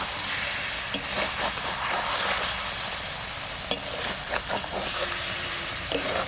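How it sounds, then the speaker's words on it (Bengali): Cauliflower with gondhoraj lemon being stirred as it fries in a pan: constant sizzling with intermittent sharp clinks and scrapes from the spoon. "এবার একটু নাড়া দিয়ে দিই।"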